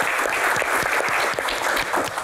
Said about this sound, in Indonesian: Tepuk tangan dulu untuk box ini.